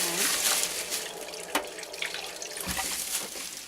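Water runs and splashes steadily into a bag nearby, with a few small sloshes and drips along the way.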